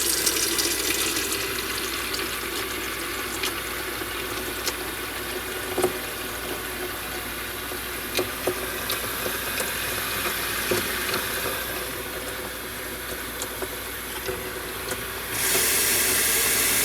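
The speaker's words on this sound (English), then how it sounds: "And then just let the tank fill like that." Kitchen faucet water pouring into a humidifier tank, a steady hissing rush lasting over fifteen seconds with small clinks, growing brighter and louder near the end as the flow changes; no one speaks.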